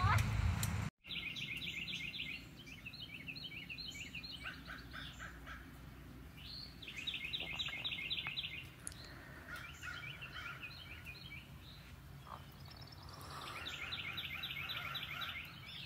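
Repeated bursts of rapid, high chirping calls from birds come and go over a steady low background hum, fairly faint and at a distance.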